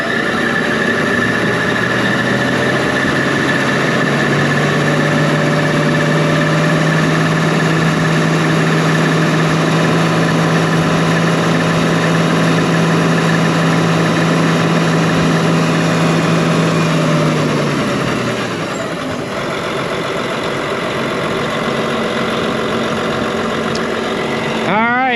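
A vehicle engine under belt repair runs at a steady, elevated hum for a long stretch, then drops to a lower, quieter idle, with a loud rattling whine throughout.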